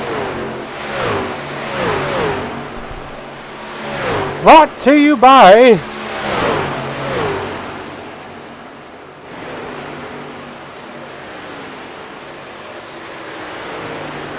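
Racing truck engines rev and whine through a late-race lap of an SRU Truck Series event, with one loud close pass-by swelling over the field while a commentator talks throughout.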